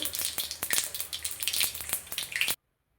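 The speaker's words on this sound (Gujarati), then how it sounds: "રાઈ નાખીશું" Mustard seeds crackling and spitting in hot oil in a kadhai while tempering Gujarati instant white dhokla, a close, busy sizzle full of sharp pops that cuts off abruptly after about two and a half seconds.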